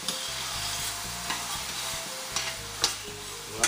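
Yellow onions fry and sizzle in a pan for shrimp Creole, with a steady hiss broken by repeated scraping stirs and occasional sharper clicks of the utensil against the pan.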